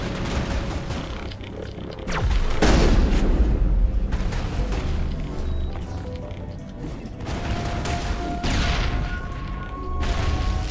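A grenade going off in Mass Effect amid a firefight with the geth: loud booms and crashing blasts mixed with scattered weapon fire and mechanical clatter, dense and continuous throughout.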